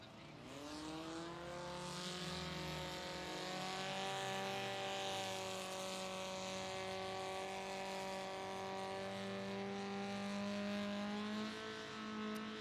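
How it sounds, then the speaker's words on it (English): Engines of 2.5 stock class 16-foot racing boats revving together before a qualifier on a 1¼-mile regatta course: a loud, sustained layered drone of several motors with shifting pitch, steady throughout. "Drivers, rev them up."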